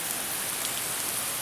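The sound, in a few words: rain falling during a rainy day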